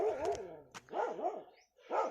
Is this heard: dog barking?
yes